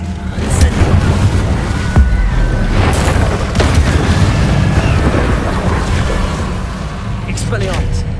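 Incendio fire spell blast in Hogwarts Legacy on PS5: heavy, rumbling booms and crackling bursts fill the scene continuously, with several sharp impacts scattered across a dense, loud combat soundscape and a voice calling out.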